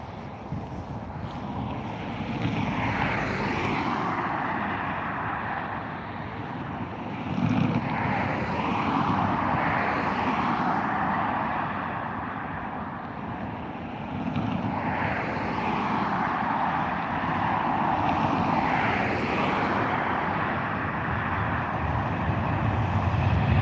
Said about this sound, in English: EIGA-J has now begun its takeoff roll, heading over to Miami or San Francisco, I believe.